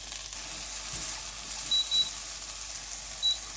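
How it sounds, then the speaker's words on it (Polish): Soft, steady sizzling of bell pepper frying in a pan, faint and continuous, with a few brief high beeps. "Na patelnię dokładamy paprykę i smażymy jakieś 2 minuty."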